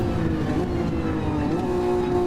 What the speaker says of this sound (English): You can hear that little engine